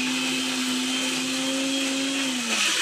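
A mixer grinder whirs steadily while blending onion masala for gongura chicken, a loud continuous motor drone that dips in pitch near the end as the load shifts.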